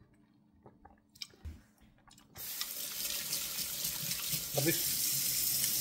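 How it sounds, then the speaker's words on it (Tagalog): After a quiet start with brief handling clicks and a single short spoken word, a kitchen tap opens into a steady, loud rush of running water as a lemon is rinsed underneath. "Ngayon, yung lemon naman, hugasan natin kasi medyo madumi."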